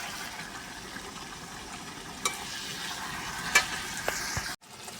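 Chicken mixed with garam masala cooks in a pan inside a truck cab, giving a low, steady sizzle with occasional faint clinks of stirring, then a brief cut near the end.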